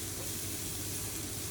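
Rice stirred into a sizzling masala vegetable mix in a pan for veg fried rice, a steady dense hiss and crackle close up with no pauses.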